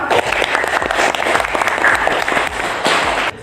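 A classroom of students bursts into loud, close applause for a classmate, dense clapping that continues for about three seconds before cutting off.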